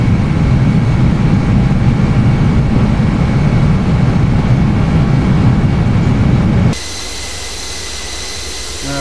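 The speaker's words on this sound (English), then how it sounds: "Now climbing and turning away from Zurich Airport." An Airbus A320 climbs after takeoff from Zurich, its jet engines a loud, steady cabin roar that drops abruptly to a quieter hum near the end.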